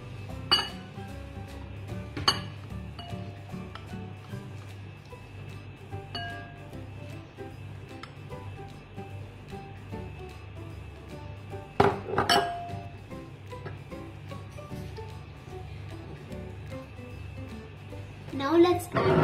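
Sharp clinks of a spoon against a bowl as unsalted butter goes in for eggless sugar cookies, a few scattered taps with one louder cluster midway and another near the end.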